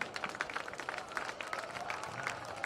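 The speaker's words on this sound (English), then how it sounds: "Let's give both of these teams a round of applause for a great effort tonight." A crowd at a high school football bowl game between LCA and Pikeville applauds both teams, steady scattered clapping heard faintly from a distance with no voices on top.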